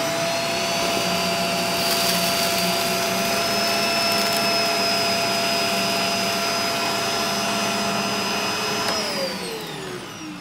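A canister vacuum cleaner with a turbo brush runs with a steady loud whine and airy roar, a high tone holding throughout before the motor begins spinning down near the end.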